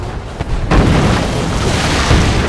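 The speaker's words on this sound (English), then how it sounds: "Your torpedo rockets on those ships." Torpedo rockets striking ships in a Call of Duty–style game, with a sudden deep boom followed by a sustained loud rumbling roar of explosions and debris.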